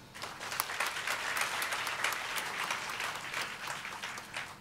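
Church congregation applauding during a sermon, a dense, continuous burst of clapping at steady volume for several seconds, with faint crowd murmur underneath.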